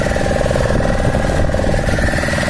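A boat engine drones steadily on a Godavari river trip, a loud, continuous motor hum with an even tone and no pauses.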